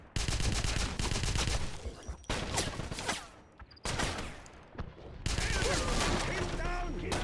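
Sustained suppressing gunfire in the Wolfenstein (2009) shooter comes as dense bursts of rapid shots broken by brief pauses, with shouting voices mixed among the loud volleys.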